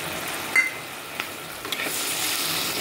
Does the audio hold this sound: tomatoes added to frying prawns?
yes